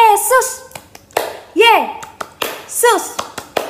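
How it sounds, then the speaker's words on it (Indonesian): Children's rhythmic 'Tepuk Yesus' clapping game at a small-children's Sunday school service, with sharp hand claps in a steady pattern mixed with voices chanting along in a lively, close rhythm. "sekarang kita tepuk Yesus ya, biar adik-adik di rumah lebih semangat"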